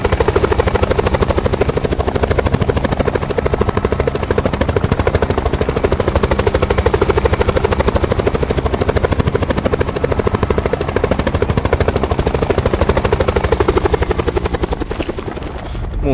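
A helicopter in the video game Black Ops 4 Blackout roars steadily with loud, fast rotor chop, close and constant for the whole stretch, fading slightly at the end.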